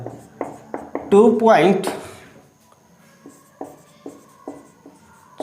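Marker or chalk strokes on a board during a physics lecture on electrostatics and Coulomb's law, a series of sharp scratchy taps and scrapes in a steady rhythm, briefly broken by a short burst of someone talking.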